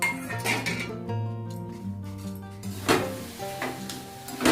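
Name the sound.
dry-roasting dried red chillies and panch phoron spices in a pan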